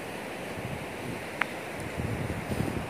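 Ocean waves washing onto a white sand beach, a steady low surf rumble with gusty wind noise and a soft swell in the final second.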